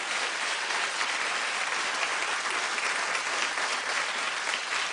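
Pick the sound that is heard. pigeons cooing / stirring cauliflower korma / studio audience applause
studio audience applause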